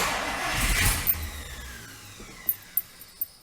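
A 1959 Chrysler Saratoga engine cranking and catching, a loud rush that settles into a fading run, followed by a few sharp clicks.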